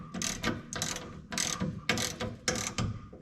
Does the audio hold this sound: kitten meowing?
no